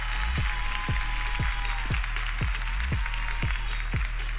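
A freestyle rap battle crowd in Peru claps and cheers for the rapper, a steady wash of noise over a repeating, pulsing beat with descending booms.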